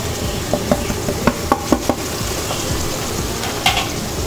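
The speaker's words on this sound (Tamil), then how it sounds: "சேர்த்து நல்லா வதக்கி விட்டுருவோம்" Ground masala spices, including coriander, chili, cumin, garam masala, pepper and turmeric powders, sizzle steadily in a pan for an egg gravy, with a series of light scraping stirs and taps of a utensil against the pan.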